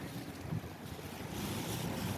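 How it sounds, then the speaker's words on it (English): Steady wind buffeting the microphone outdoors in cold weather in Azerbaijan, a broad continuous roar with low rumbling gusts, loud and close, no voices. "right now it's fairly windy and a little bit cold"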